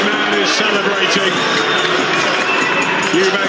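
A passionate boxing arena crowd roaring and cheering throughout a Chris Eubank Jr vs Liam Williams fight in 2022, a dense, loud, continuous wall of voices with no breaks.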